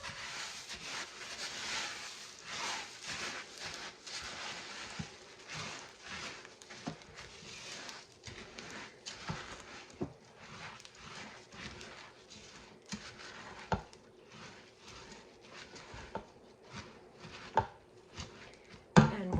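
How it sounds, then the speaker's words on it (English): Rice Krispies being stirred into a melted mixture for Rice Krispie squares, giving a steady scraping, crackly patter of spoon strokes with occasional sharper knocks against the pot, close and moderately quiet. "Now it says put in our Rice Krispies and stir until coated."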